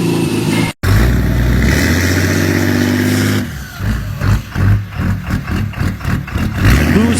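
Single-turbo car engine revving hard, a loud steady drone that breaks into pulsing rev bursts and throttle blips toward the end.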